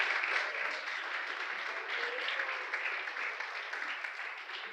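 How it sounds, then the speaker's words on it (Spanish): A church congregation applauds, a steady, moderately loud wash of many hands clapping with a slight roomy echo, sustained evenly throughout without speech. "Fuerte el aplauso para el Señor."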